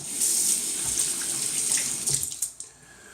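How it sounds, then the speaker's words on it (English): Warm tap water runs steadily into a sink to rinse a Wilkinson Sword Classic razor during shaving, a continuous splashing hiss close by that thins out and stops near the end. "let me put on some water"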